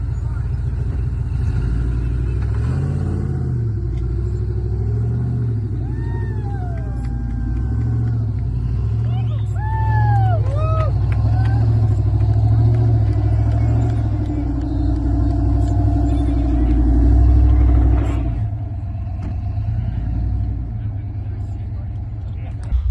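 A Ford Bronco, an off-road vehicle newly started after being broken down, runs on a trail with a steady low engine rumble throughout, swelling slightly near the end, while people talk over it.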